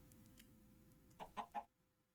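A video game chicken gives three quick, faint clucks in a row after a stretch of quiet background.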